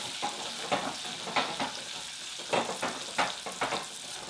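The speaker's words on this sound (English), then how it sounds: "Mix it." Ground coriander being stirred in a pan for a vegan pumpkin soup: a soft continuous sizzle broken by several brisk scraping strokes of a utensil against the pan.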